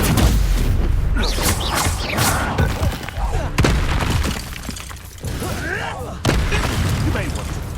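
Confringo blasting spell going off in the Hogwarts Legacy video game: loud booming blasts and crackling impacts recur across the stretch, layered with dense game sound effects and a steady rumble.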